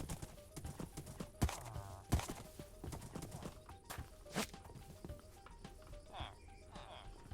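Horse hooves clip-clop in a village-building video game, a run of sharp irregular hoof knocks with a brief whinny, while someone talks intermittently over it.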